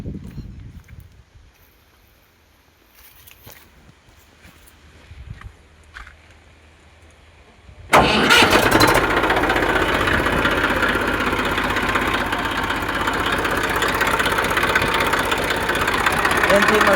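An Eicher 333 tractor from 2014 with a hydromatic hitch catches and starts at about eight seconds after a quiet lead-in, then runs steadily at a loud, rough diesel idle.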